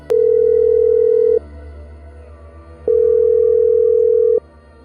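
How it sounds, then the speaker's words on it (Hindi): A telephone line tone plays in a spoken horror story: two long, loud, steady beeps separated by a short pause, heard alone over a faint low hum. "उसने 100 पर पुलिस को फ़ोन लगाया।"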